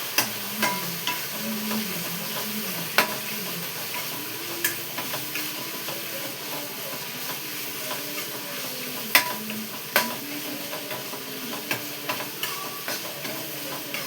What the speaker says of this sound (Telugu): అందుకనే కైమా వేపుతున్నాను అన్నమాట